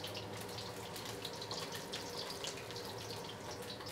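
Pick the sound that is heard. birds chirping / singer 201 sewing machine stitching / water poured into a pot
water poured into a pot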